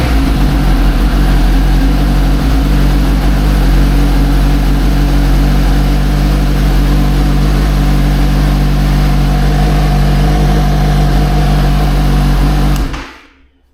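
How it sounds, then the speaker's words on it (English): A Suzuki GSX motorcycle engine, sitting in neutral, runs at a steady, loud idle with a constant low rumble that holds unbroken for about thirteen seconds before cutting off abruptly at the end. "So the bike's in neutral now. I'm just going to do a quick start of it."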